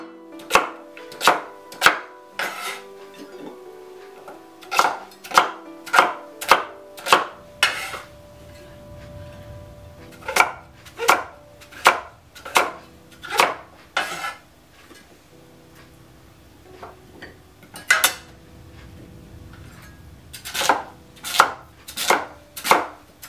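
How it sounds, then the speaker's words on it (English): A knife chops pumpkin into small blocks on a cutting board, sharp close thuds in quick steady runs separated by brief pauses, no voices. "we can start cutting them in small blocks"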